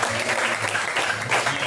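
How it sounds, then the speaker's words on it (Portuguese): Congregation applauding during a Pentecostal-style church service, a steady wash of clapping over low room rumble, moderately loud and continuous throughout with no clear speech on top. "Aplauda Ele."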